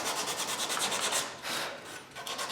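A wooden guitar neck being smoothed by hand with sandpaper, a steady close scraping rub in repeated back-and-forth strokes with a brief pause midway, no voices.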